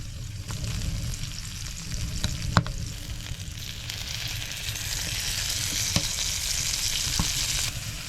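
Dried, salted squid roasting on the hot top of a wood stove inside a winter tent, giving a steady soft crackling sizzle with a few sharp pops, close and fairly quiet, with no talk.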